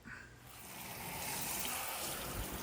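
Water rinsing off a truck during a spot-free deionized water car wash, a steady soft hiss and patter of spray running off the bodywork, fairly faint and continuous.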